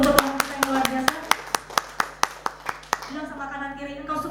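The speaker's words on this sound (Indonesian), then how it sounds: "Berikan tepuk tangan terbaik untuk Tuhan kita yang luar biasa" Congregation clapping hands in unison during a church worship service, a steady rhythmic series of sharp claps roughly every third of a second with singing and voices underneath, the claps stopping near the end as voices continue.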